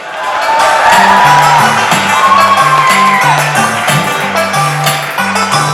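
A large audience at a Kashmir conference in Islamabad bursts into loud, sustained clapping and cheering, with a few shouts over a low, droning musical tone in the background.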